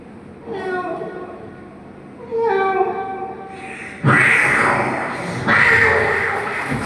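A voice imitates cats: two drawn-out meows rising and falling, then two harsher, louder yowling screeches like a cat fight, each a second or so long.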